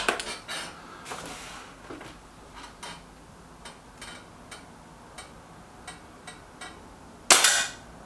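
An Artemis M11 air rifle fires a single sharp, loud crack near the end, after a stretch of faint clicks and ticks.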